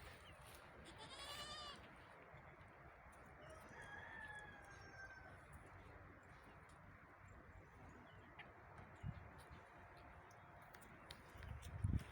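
Young goat kids bleating in a winter shelter, a clear drawn-out bleat near the start then fainter cries further off, over a low noisy farmyard background with a few soft knocks.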